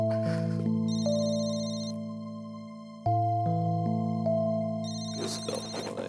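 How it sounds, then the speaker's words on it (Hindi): A mobile phone ringtone plays a bright synthesized melody of sustained electronic tones, loud and close, restarting partway through, with no talk over it. "तुम्हारा फोन बज रहा है,"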